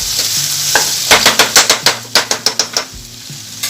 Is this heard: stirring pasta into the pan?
yes